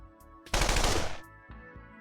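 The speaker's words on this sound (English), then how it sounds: "do you like it when I shoot guns?" A short, loud burst of rapid automatic gunfire in a video game lasts under a second, framed by quieter game sounds before and after.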